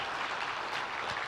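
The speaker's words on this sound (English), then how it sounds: "give them a round of applause" Brief, fairly quiet applause at a symposium as an audience claps for the Navigate Recovery team, a dense wash of hands heard from a distance.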